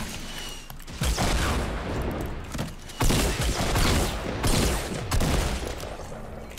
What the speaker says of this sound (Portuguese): Não tô entendendo de onde que tá vindo esse tiro, que tá indo pra onde também.